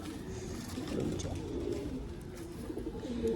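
Low, soft cooing of a pigeon close by, repeated murmuring calls over a quiet rustling background.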